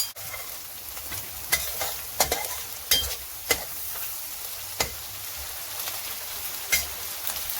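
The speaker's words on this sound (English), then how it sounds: "I'm making the crispy mini anchovies." Crispy mini anchovies fry in hot oil with a steady, rain-like crackle. Occasional sharp clinks and scrapes of stirring sound close by, with no talking.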